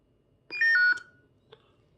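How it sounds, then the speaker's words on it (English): Three quick electronic beeps stepping down in pitch from a saber, close and clear, followed by a faint click in near silence. "you'll hear a declining 3 beeps"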